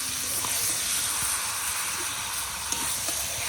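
Meat goes into a pan of spices fried with turmeric, setting off a steady, loud, broad hiss of sizzling that holds evenly throughout, with faint kitchen clatter and no clear talk.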